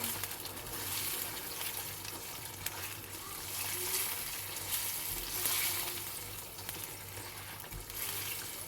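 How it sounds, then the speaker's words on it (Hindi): Chana dal being stirred into meat cooking on a lowered flame: a dense, continuous sizzle and bubbling runs throughout, with faint scraping of a spoon underneath. No one speaks. "चने की दाल को मिक्स करूँगी"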